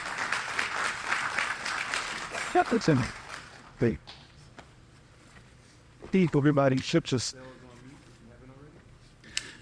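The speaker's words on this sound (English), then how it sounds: "Let's give him a round of applause." An audience at a morning lecture on data and equity for North Carolina HBCUs claps briefly, the applause fading after a couple of seconds as a speaker's voice takes over, with a few scattered claps and shuffling later.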